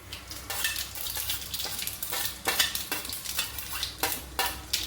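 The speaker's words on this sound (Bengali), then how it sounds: "এর মধ্যে এবার আমি গোটা জিরাটা দিয়ে দিচ্ছি," Whole cumin seeds are stirred in a hot pan while preparing shahi paneer, giving rhythmic metallic scraping and clinking strokes with a light sizzle underneath, close and fairly loud, with no voices.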